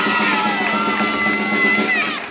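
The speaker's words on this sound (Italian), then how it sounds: "Ragazzi, un grosso applauso al presidente della Prologo Luciano" Crowd at an outdoor award ceremony cheering with a long sustained vocal roar and whoops, children's voices prominent, loud and continuous throughout.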